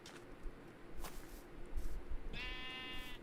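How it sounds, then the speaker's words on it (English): A sheep in Minecraft gives a single short bleat near the end, faint, under low game ambience with a few soft thumps and footsteps before it. "there's a sheep in Minecraft"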